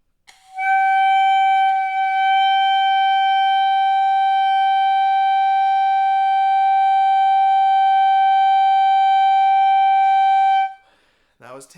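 A clarinet holds one steady, clear note for about ten seconds, loud and unbroken, then stops abruptly, followed by a brief noise at the end.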